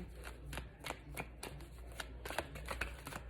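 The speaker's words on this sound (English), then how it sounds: "Shuffle 2 more decks." Tarot card decks shuffled by hand in a quiet room, a steady run of crisp riffling flutters and soft slaps repeating every half second or so, close to the microphone with a low background hum.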